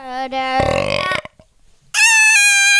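A loud, drawn-out burp rumbles close to the microphone, followed after a short pause by a higher, tonal vocal sound in the same room.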